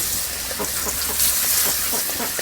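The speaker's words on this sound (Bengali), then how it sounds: "তেল গরম হয়েছে, তে মাছ একটা একটা করে দিয়ে দিব।" Pieces of fish fried in hot mustard oil for a light squash, potato and eggplant curry give a close, bright, continuous hiss with faint crackles throughout.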